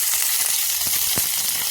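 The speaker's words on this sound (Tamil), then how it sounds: "நல்லா வதக்கி வச்சுக்கலாம்." Onion and curry leaves sautéing in a pan for a prawn gravy, giving a continuous close sizzling hiss with a few brief crackles and no voices.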